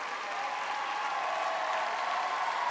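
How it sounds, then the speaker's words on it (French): Steady applause from a TV talent-show studio audience at a Nouvelle Star 2013 live show, continuous and fairly loud throughout. "Applaudissements pour eux"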